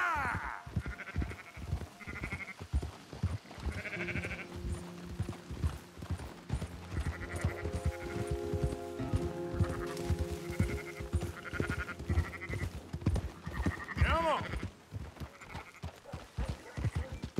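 Sheep and goats bleat repeatedly over steady clip-clop hoofbeats in the video game Red Dead Redemption 2, with several animals calling close and at varying pitches throughout a busy livestock scene.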